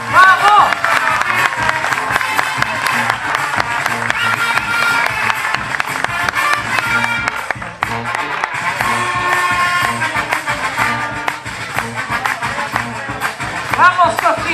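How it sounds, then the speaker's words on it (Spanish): Dense crowd applause with cheering for a Paraguayan folk dance group performance, steady and loud throughout, mixed with shouting voices. "¡Fuertes aplausos!"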